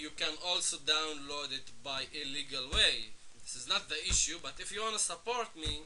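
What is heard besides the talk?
No everyday noises stand out.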